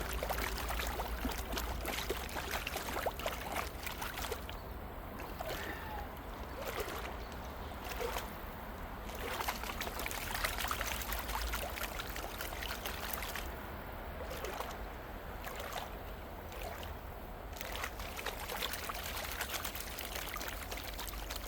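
Gold prospecting pan being worked outdoors, with a steady wash of swirling, sloshing water and gritty sand and gravel churning continuously for about twenty seconds, close up and without speech.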